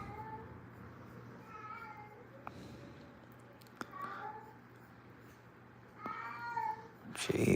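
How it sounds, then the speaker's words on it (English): A cat meows loudly and insistently close by, three drawn-out wailing cries over a low steady hum, with no talk. "I'm sure y'all can hear my cat"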